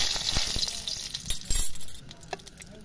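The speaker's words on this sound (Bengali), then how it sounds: "কড়াইটা গরম হয়ে গেছে, এবার তেল দিয়ে দিচ্ছি। ফোড়নে দিয়ে দেব কালো জিরে" Nigella seeds and dried red chilli hit hot oil in a heated kadai, giving a bright, crackling sizzle up close with a few sharp pops and a faint clink of utensils. The sizzle settles into a softer hiss near the end.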